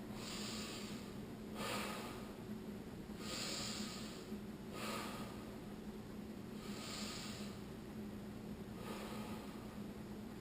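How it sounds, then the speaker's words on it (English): Slow, deep yoga breathing during a Kundalini vinyasa flow class: soft airy inhales and exhales repeat roughly every two to three seconds, close and steady over a constant low background hum. "Slowing the breath."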